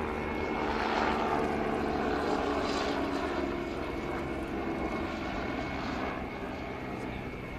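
An Agusta A109BA helicopter of the Belgian Air Component drones overhead during a flying display, with a steady engine and rotor hum, holding fairly constant with a slight rise and fade, while a voice talks over it.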